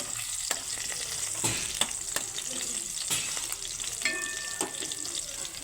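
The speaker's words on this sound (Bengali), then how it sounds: "এগুলো এবার আস্তে আস্তে ভাজতে থাকি" Potatoes fry in a hot pan with a constant bright sizzle. Repeated scraping stir strokes and light utensil taps land every second or so, close and clear.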